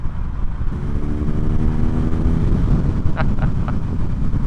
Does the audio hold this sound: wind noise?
yes